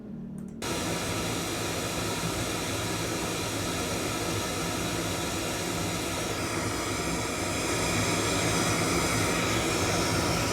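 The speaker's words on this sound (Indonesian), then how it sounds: "Sekarang saya akan on di bagian signal generator" A signal generator's test tone played through one loudspeaker during a measurement-microphone comparison comes through as steady, loud, broadband noise that holds evenly for about ten seconds after a brief quiet start, with no talking.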